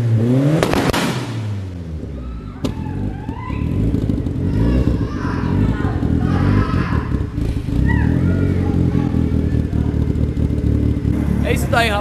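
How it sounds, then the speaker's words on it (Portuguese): Nissan 240SX engine revving hard at close range with three-step launch control, holding a loud, steady, crackling drone at fairly low revs, with voices talking over it. "infelizmente o three step não deu pra sair fogo, porque eu levantei pouca rotação do carro"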